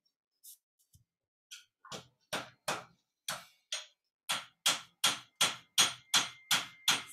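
A blacksmith hand-hammers a Sakai forged knife blade, delivering sharp metallic strikes that start sparse and irregular, then settle into a steady, loud rhythm of about a dozen close blows.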